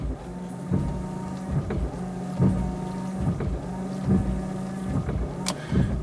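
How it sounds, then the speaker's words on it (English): Windshield washers spraying on a Silhouette car, heard as a steady low motor hum with rhythmic pulses about once a second, close by and with no talking. "How do you like the washers on the windshield wipers?"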